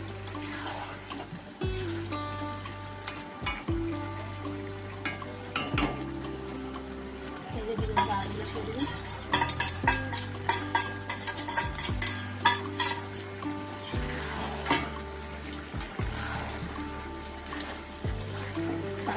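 A utensil scrapes and clatters against a pan as potatoes and chicken fry together in a spicy red chicken curry, in rhythmic stirring strokes over a low sizzle, with music and occasional speech in the background.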